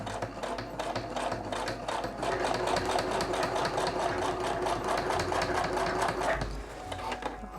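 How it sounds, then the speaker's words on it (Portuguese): A sewing machine stitches a seam with heavy topstitching thread, giving a steady, close mechanical whir with a fast regular rattle that runs for several seconds. "E agora vou fazer uma costura"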